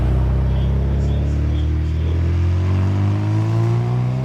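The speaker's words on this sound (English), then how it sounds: "John Cavendish in the MGB coming into Ettores now" An MGB sports car accelerates hard at the Prescott hillclimb, the engine loud and close, a continuous rising growl that climbs steadily in pitch.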